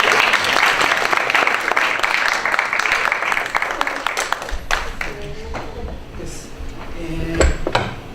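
Audience applause welcoming a university lecturer at a conference on tariffs, a dense sustained clapping that fills the room for several seconds before thinning out near the end.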